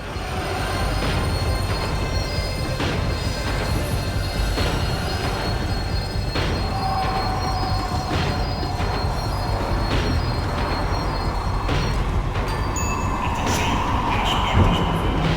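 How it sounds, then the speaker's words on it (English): Tram rolling and slowing to a halt in Max Payne 3, with a steady loud rumble of wheels on rails, faint squeals and clanks running throughout, no voices. "The tram was slowing down, and I'd only just gotten on board."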